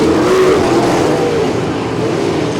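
Sprint cars roar around the dirt oval at Champaign Speedway in a POWRi WAR Sprint Car League heat race, a loud, steady, close engine howl that holds throughout with no pauses.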